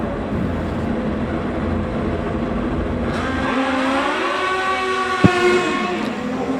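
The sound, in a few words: Kawasaki-powered Top Gas drag racer running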